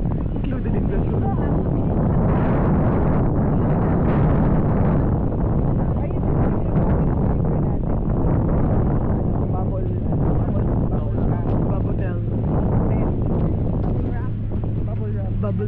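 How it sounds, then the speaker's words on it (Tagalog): Strong wind gusting across the open Wadi Rum desert in Jordan, a loud continuous roar buffeting the microphone with steady rumble throughout. "Pagkagising mo, nililipad ka na ng hangin"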